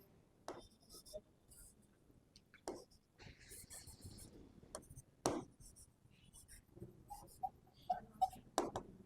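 A pen scratching across paper in a classroom-style English writing lesson, soft, close scribbling strokes in short irregular bursts, with faint whispering mixed in.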